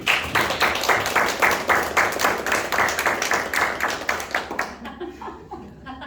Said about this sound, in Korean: 기대되시는 분 박수.